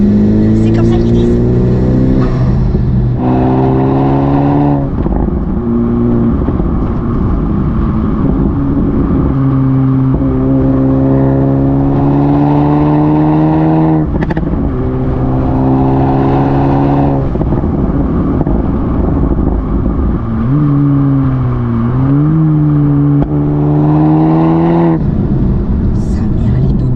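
A Honda Civic Type R FK2 turbo engine pulls hard through the gears from inside the car, a loud rising drone climbing repeatedly with brief dips at each shift, and people talk over it at times.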